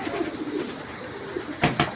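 Flying pigeons in a loft coo steadily in low, rolling murmurs, then a few sharper wing flaps or knocks near the end, all close by with no talking.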